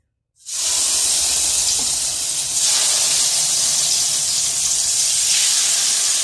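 Ingredients for steamed hilsa dropped into hot oil in a wok erupt into a loud, sudden sizzle that starts abruptly and hisses steadily on, close and alone.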